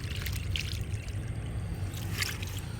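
Water being poured out in a steady, continuous splashing rush, loud and close throughout with no voices over it.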